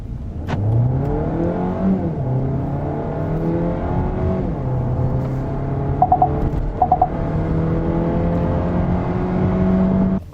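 A Hyundai Avante hybrid sedan accelerates from a standstill, its engine tone climbing in steady stepped rises through the gears, with a couple of brief clicks midway and no talking.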